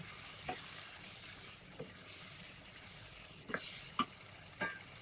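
Potatoes stir-frying in spiced oil for an egg curry, a steady low sizzle with scattered soft clicks of a spatula scraping the pan, faint and close, with no talk.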